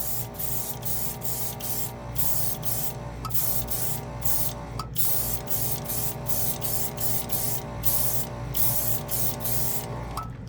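Small portable airbrush compressor runs with a steady hum while paint sprays from the airbrush, making a continuous hiss broken by short bursts and pauses as the trigger is worked, loud and close with no talk.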